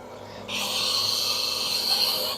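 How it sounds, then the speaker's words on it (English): Sandpaper rubs against a wooden stair spindle in one steady, close, hissing stroke lasting about two seconds, with a quiet room before it. "just take your sandpaper, put it in there."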